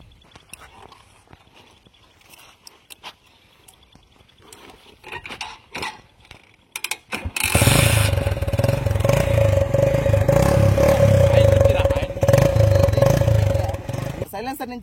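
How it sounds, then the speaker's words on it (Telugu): KTM motorcycle with its exhaust routed through a Coke tin, a few mechanical clicks and clatters, then the engine catches and idles with a loud, steady, throbbing roar close by. "సో కరెక్ట్ గా ఇప్పుడైతే మన బైక్ ఒకసారి స్టార్ట్ చేస్తుందాం"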